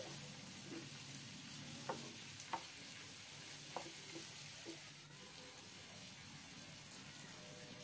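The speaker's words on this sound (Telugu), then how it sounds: "మష్రూమ్ ముక్కలు వేసుకొని కలుపుకోవాలి." Button mushroom pieces frying in a pan while being stirred, a steady soft sizzle with a few light scraping clacks of the spoon, fairly quiet and with no talking.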